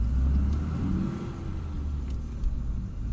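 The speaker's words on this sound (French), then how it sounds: "je trouve le fonctionnement du moteur beaucoup plus onctueux" A Volvo 740 with K-Jetronic fuel injection runs with a smooth, low engine rumble, steady and fairly close, with a slight swell near the start and a few faint higher clicks over it.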